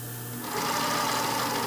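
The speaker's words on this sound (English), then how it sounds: "I actually want to start sewing my elastic first" Sewing machine stitching elastic onto fabric for a panty pattern, a steady close whirring run that starts softer and builds to a full, even drone with no talk.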